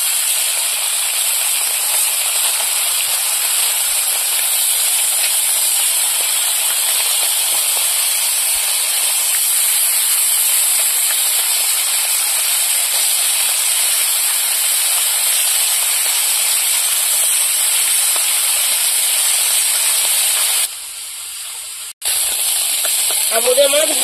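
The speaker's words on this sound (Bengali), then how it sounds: "এবার আমুদে মাছগুলো ভেজে নেব।" Amude fish sizzling in hot oil give a steady, bright crackling hiss that runs unbroken, then briefly drops near the end before resuming. No one talks over it.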